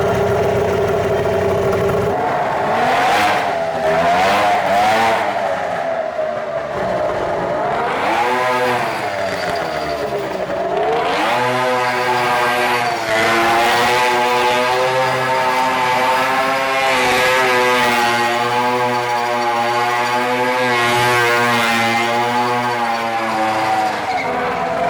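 A golf cart fitted with a snowmobile engine starts up and revs hard, its high buzzing two-stroke whine climbing and falling in repeated loud bursts, then holding a sustained, rising scream.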